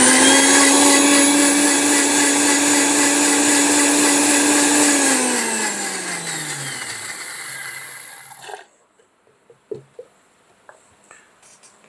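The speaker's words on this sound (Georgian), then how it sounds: "აქ ჭირდება ეხლა ეს ბლენდერი." A blender whirs loudly while blending almonds for almond milk, its high motor whine steady for several seconds, then winding down and cutting off, followed by a few faint clicks and knocks.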